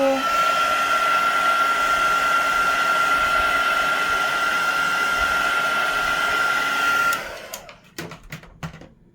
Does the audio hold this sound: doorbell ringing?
no